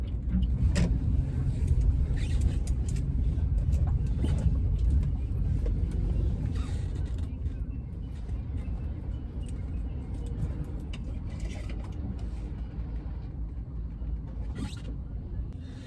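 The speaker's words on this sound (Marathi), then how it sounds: "गाडी पार्क करूया" A car heard from inside while driving and being parked at an office, with a steady low engine and road rumble that eases off partway through, with scattered creaks and clicks on top.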